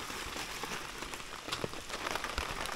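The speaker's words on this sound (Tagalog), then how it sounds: "Raining." Heavy rain patters steadily on surfaces at a campsite, a dense even hiss with scattered louder drops close by and no voices.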